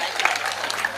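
Audience applause at a live comedic stage show, a brief burst of dense, steady clapping with a voice mixed in.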